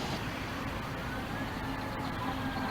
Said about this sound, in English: Now I hear the fire truck, so something must be going on somewhere.